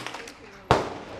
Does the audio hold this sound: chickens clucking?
no